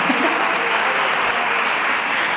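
Sustained clapping from a lecture audience at a healthy-living talk, a thick, continuous roar of hands at constant loudness from start to finish.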